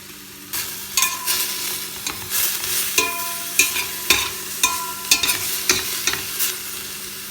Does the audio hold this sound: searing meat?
yes